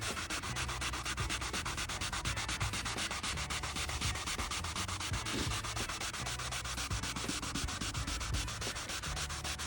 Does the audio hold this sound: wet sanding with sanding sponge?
yes